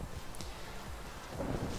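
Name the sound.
rain and thunder in Minecraft video game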